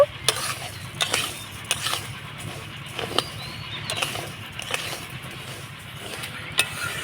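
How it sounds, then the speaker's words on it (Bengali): Raw rice fries in ghee over medium-low heat with a soft, continuous sizzle, while a spoon stirs and scrapes the pan in regular clicks and swishes. "এবার আমি চালটাকে মিডিয়াম টু লো আছে করে নাড়াচাড়া করে ঘিয়ের সঙ্গে ভেজে নেব"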